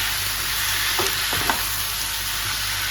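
Tomato pieces fry in hot oil in a pan, giving a steady, loud, close sizzle with a few faint stirring scrapes and no voices.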